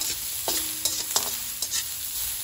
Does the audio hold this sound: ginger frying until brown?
yes